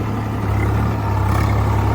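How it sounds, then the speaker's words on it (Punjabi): A 3630 model tractor engine runs steadily at idle, a loud, close, continuous low throb with a deep hum and no voices. "ਆਪਣਾ ਟਰੈਕਟਰ ਚੱਲ ਗਿਆ"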